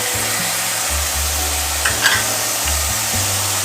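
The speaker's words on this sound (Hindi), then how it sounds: "अब मैं इसमें वेजिटेबल डाल दूँगी" Carrots, peas and green onion tumble into a pan of lightly cooked chicken for broken-wheat dalia, setting off a steady, close sizzle with a brief clatter midway and low tonal hum beneath.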